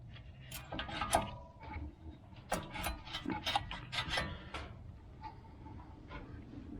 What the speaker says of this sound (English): You just slide your caliper back over.